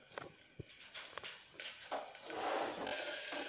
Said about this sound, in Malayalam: ഇനി നമുക്കൊന്നൊരു സ്പൂണും കൊണ്ട് നിന്ന് ഇളക്കി കൊടുക്കാം